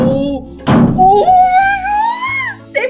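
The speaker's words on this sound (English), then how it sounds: "They banged on my locker, Jen." A heavy thunk as someone bangs on a school locker from outside, one loud close impact amid tense whimpering and muffled vocal sounds.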